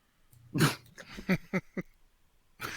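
Dog barking and whimpering in a few short yelps and whines, fairly close, with one long bark followed by quicker yips and another bark starting at the end; no talking.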